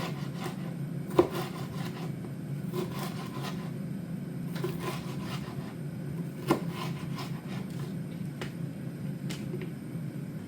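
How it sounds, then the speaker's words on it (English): A knife thinly slices a pepper steadily on a board with soft scraping strokes and a few sharper taps, close by, no talking. "I'm just going to thinly slice the pepper."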